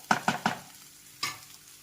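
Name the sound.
mixing potato sandwich filling with lemon and coriander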